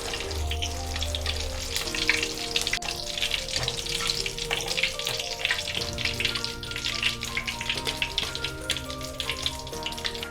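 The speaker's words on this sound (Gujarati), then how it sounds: "તો બટેટાને આપણે ગોલ્ડન બ્રાઉન ફ્રાય કરવાના છે" Potato pieces fry in hot oil until golden brown, a steady close sizzle and crackle with occasional clinks and stirring sounds and no talking.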